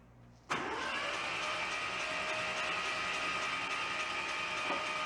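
An abandoned Kubota tractor's engine cranks and catches after a short quiet moment, then settles into a steady, loud, close idle that runs on without a break.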